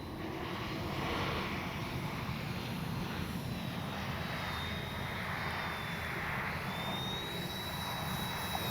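A radio-controlled airplane comes in to land with a steady, fairly loud engine drone and a faint high whine that wavers as it approaches, with no voices.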